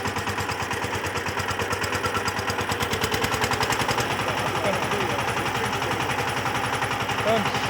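VST Shakti 130 DI power tiller diesel engine running in first gear, a rapid, even chugging beat close by that holds a steady rhythm throughout, with a person's voice partly under it.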